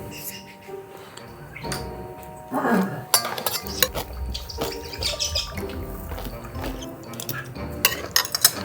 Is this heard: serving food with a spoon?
yes